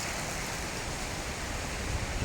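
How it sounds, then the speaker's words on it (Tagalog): Heavy rain pours during a thunderstorm, a dense, steady broadband hiss of falling water that stays constant and loud, with no voices and no distinct drops standing out. "Lakas pa yung ulan."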